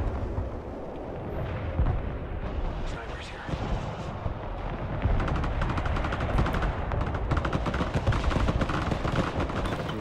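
MLRS rocket artillery launching in the video game Broken Arrow, a sustained roaring rumble of rockets and blasts layered with rattling fire, loud and continuous, intensifying in the second half.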